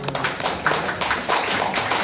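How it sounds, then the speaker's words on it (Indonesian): Audience applause for a cast member of the thriller film Terluka, heard as a steady patter of many hands clapping, moderately loud and continuous for two seconds. "tepuk tangan juga dong"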